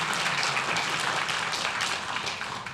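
Audience at a city council meeting applauding parents, a dense, continuous wash of clapping from many hands that holds steady and fades slightly toward the end.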